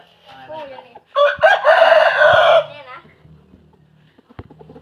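Roosters near chicken coops crow loudly and close, one long crow standing out in the middle, with clucks and faint cackles around it and a voice talking over parts of it.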